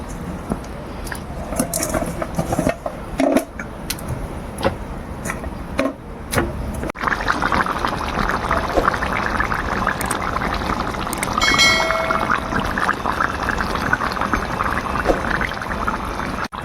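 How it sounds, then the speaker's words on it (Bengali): Water poured a little at a time into a simmering spice gravy for Bengali tuna fish kalia. A few light clinks come first, then a steady, close splashing and bubbling rush runs for about ten seconds with no talk. "এবার আমি অল্প করে একটু জল দিয়ে দিলাম"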